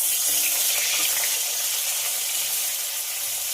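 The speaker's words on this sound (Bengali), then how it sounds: "কড়াতে আবার একটু তেল দিয়ে বাকি পটলগুলোকেও ভেজে নেব।" Pointed gourd pieces frying in oil in a wok, giving a steady, close, even sizzle with no talk.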